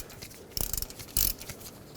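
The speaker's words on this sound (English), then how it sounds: "Put a ratchet in there, break this free, remove it the rest of the way." A ratchet on a 3/8 drive breaks loose the differential fill plug of a 2009-2011 Ford F-150, giving two short bursts of close clicking separated by quieter handling noise.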